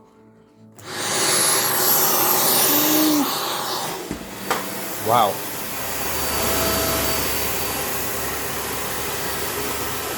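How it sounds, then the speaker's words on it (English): A Dyson Ball Animal vacuum cleaner, 2023 edition, starts up and runs with a loud, steady, broadband whoosh and whine, and a voice speaks briefly over it. "And test out the hoover."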